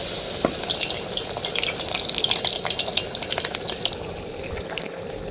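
Eggplant fritters coated in gram flour batter deep frying in hot oil, giving a steady, close bubbling sizzle with scattered crackles and pops for the whole stretch, no voices.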